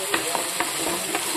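Cashew and melon seed paste frying in oil, stirred with quick scraping strokes over a steady, close sizzle.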